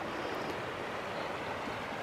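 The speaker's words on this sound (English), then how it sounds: "Enjoy the creek." Soft, steady rush of a creek flowing on a ranch, a quiet continuous babble of water with no voices.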